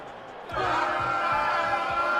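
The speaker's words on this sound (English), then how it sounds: "You can hear the crowd here in the stadium as we hit 3rd and 3. It is a very raucous crowd here" Raucous stadium crowd at a football game swells in abruptly after a moment of relative quiet, becoming a sustained, dense roar with rhythmic low thumps underneath, like stomping or drumming.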